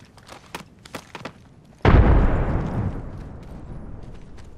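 A frag grenade goes off in the video game Apex Legends: a sudden, loud, close blast with a long rumbling tail that slowly fades. A few sharp clicks and small pops come before it.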